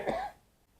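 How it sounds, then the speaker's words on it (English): A single short, rough cough from a man battling a lingering cough, fairly faint and close, followed by quiet room tone. "I can't get rid of this cough"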